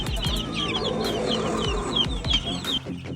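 Caged grey crossbreed pigeons cooing, with several overlapping throaty coos and soft warbles close by, plus a few brief chirps and cage rustles, loud and continuous, with no talking.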